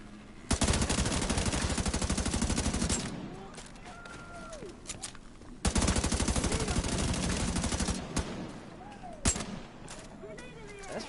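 Automatic weapon fire from the shooter game Division 2 rattles in two sustained bursts of rapid shots separated by a pause, with a few single loud cracks afterward, and a person talks briefly between the volleys.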